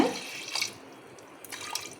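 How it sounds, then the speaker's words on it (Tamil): Water poured into a pot of split moong dal (pasi paruppu) while cooking a vallarai keerai kadaiyal, heard as a short splashing trickle with a few drips, near and moderately loud, with no talk. "அப்புறமா தண்ணி ஊற்றிக்கலாம்"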